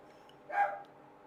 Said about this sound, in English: Oh man, the dog's going crazy.